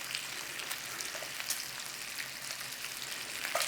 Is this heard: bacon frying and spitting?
yes